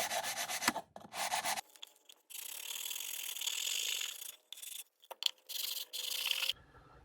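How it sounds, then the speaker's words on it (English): An 80-grit sanding block rubs back and forth over a wooden box in repeated bursts of gritty scraping, with short pauses between strokes, close and fairly loud. "I'm just going to use my sanding block and work my way around and take off some material"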